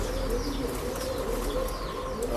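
Breeding pigeons at a pet shop in Bangalore coo softly and repeatedly at close range, with a few faint chirps among the low, rolling coos and no talk.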